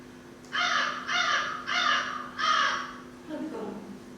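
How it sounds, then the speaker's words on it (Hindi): Four loud, close crow caws in a steady evenly spaced series, followed by a fainter lower call, heard during a stage rehearsal of a Hindi drama. "बंद करो, ये कौवे की आवाज। उड़ा दो।"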